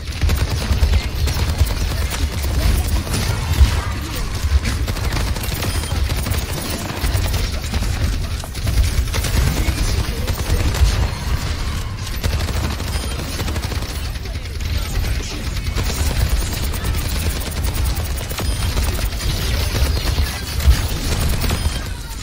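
Video game gunfire in a shooter: dense, sustained bursts of rapid shots and booms fill the whole stretch at a loud, steady level, with a voice occasionally talking over the din.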